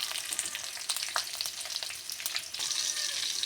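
Cumin, mustard seeds, green chilli, onion and curry leaves fry in hot oil, a dense continuous sizzle with crackling pops and occasional stirring scrapes, close and fairly quiet throughout.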